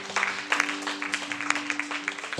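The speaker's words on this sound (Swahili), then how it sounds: "Mpigie Yesu makofi mazuri." Church congregation clapping in irregular bursts over a sustained organ or keyboard tone, moderately loud with sharp individual claps standing out.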